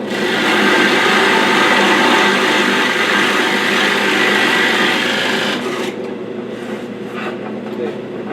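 A loud, continuous grinding rasp of a bit boring a 1-inch hole into a wooden counter board, steady for several seconds before dropping in pitch and intensity as it finishes.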